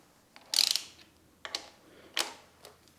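A ratchet wrench tightens Loctite-dabbed bolts into a Brembo brake caliper on a Honda SCL500/CL500 motorcycle, giving three short bursts of rapid clicking, close and crisp, with quiet pauses between.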